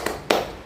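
Two quick, sharp hand claps, spaced about a quarter-second apart, from a classroom 'tepuk semangat' clap chant led by an Indonesian teacher.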